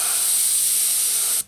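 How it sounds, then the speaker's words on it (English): Spray paint hissing from a can in one continuous burst along the edge of a circle while pinstriping a low-rider saw, close and loud, cutting off abruptly. "I spray just on the edge of the circle."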